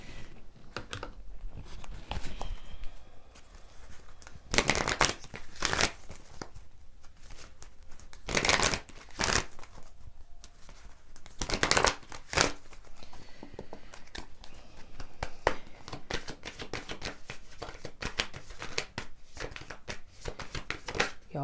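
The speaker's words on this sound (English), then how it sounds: "Y'all's card shuffling so weird." Tarot cards shuffled by hand in repeated bursts of papery riffling and soft slaps, close up over a steady low room hiss, with a few louder clacks now and then.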